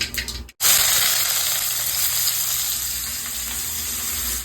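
Mustard seeds and onions hit hot oil in a pan with a sudden loud sizzle that settles into steady, close frying and crackling, no voices.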